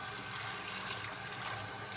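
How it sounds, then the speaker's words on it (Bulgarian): Running tap water in a kitchen sink while raw chicken is rinsed under the faucet, a steady, even splashing flow lasting throughout with no voices. "После замиваме пилешкото на чешмата"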